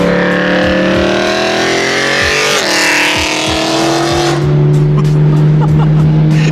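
A loud BMW E92 M3 exhaust roars close by, pitch sliding as the engine revs and shifts, with a deep rumbling drone continuing afterward.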